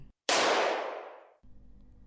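A single loud gunshot sound effect in a Thai audio drama about the end of the world, one sharp blast followed by a decaying roar that fades over about a second, then quiet low background.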